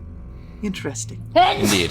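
A single loud sneeze bursts out near the end, close by, after a few brief spoken words during a tabletop role-playing game session.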